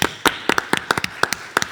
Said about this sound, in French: Applaudissements pour Pierre Maillard.